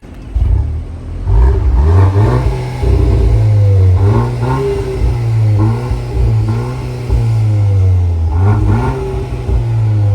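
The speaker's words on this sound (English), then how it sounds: "This is what the car sounds like standard." A 2025 Audi S3 engine with stock exhaust revs repeatedly from idle, rising and falling in several strong bursts, loud and close, with a deep steady exhaust rumble.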